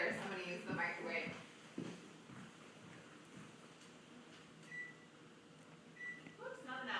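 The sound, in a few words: microwave oven timer being set, beeping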